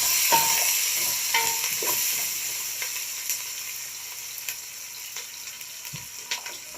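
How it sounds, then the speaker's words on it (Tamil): Chopped onions sizzle steadily in a hot pan for a chickpea kurma while a ladle stirs them, giving close, irregular scraping clicks over the constant frying hiss. "நம்ம கரண்டி எடுத்து அப்படியே வெங்காயத்தை நல்லா வதக்க ஆரம்பிச்சிடணும்"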